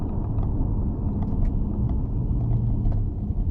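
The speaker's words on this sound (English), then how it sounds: "I downshifted to 2nd gear" A 2019 Toyota Camry SE engine drones low and steady after a downshift into second gear, a continuous cabin rumble with faint clicks above it and no talking.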